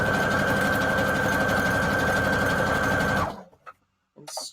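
A sewing machine stitches zigzag on scrap fabric for a junk journal cover, a loud, steady mechanical whir with a constant hum that runs for about three seconds, then stops and gives way to a few faint handling knocks.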